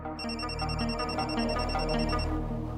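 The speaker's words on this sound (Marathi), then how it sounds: "स्वानंदी कम ऑन, फोन उचल." A phone rings with a repeating electronic ringtone melody, clear and fairly close, playing on its own for a few seconds.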